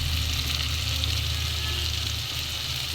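Potatoes fry in a pan for a hotel-style potato palya, a close, steady, even sizzle and hiss with a faint low hum beneath and no voices.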